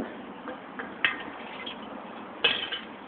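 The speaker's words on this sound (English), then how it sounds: "we're going to keep stirring" A utensil scrapes and clinks against a bowl while kombucha sorbet mix, frozen with liquid nitrogen, is stirred; two sharper knocks stand out among soft, close, irregular scraping.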